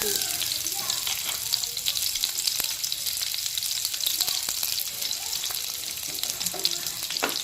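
Chopped onions frying in hot oil for a red amaranth leaf (lal shak) stir-fry, with a steady, dense sizzle and a few faint clinks and stirring scrapes throughout.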